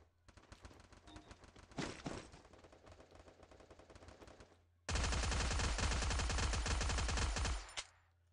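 Gunfire in Garena Free Fire, the mobile battle royale game: a short burst of shots, then a sustained rapid automatic volley lasting about three seconds, loud and close.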